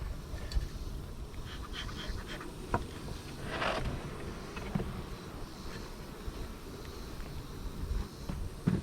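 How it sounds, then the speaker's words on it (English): Honey bees buzz from an opened hive during a varroa mite check, a faint, steady swarm drone throughout with a few brief louder bursts as bees pass close. "let's shake some bees"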